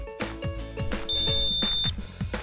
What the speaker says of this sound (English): Listen for a long beep to confirm.